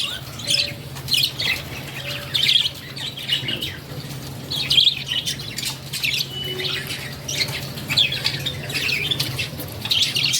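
Small caged birds chirp and squawk in short bursts while a male bird feeds a chick, calls coming close and fairly loud over a steady low hum, with faint wing flutters.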